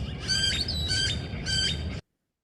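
A wild bird call with background noise removed: three evenly spaced bursts of harsh, buzzy squawking notes, clear and close, then abrupt silence.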